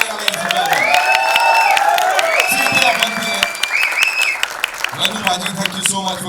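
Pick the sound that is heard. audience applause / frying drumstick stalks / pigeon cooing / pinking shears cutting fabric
audience applause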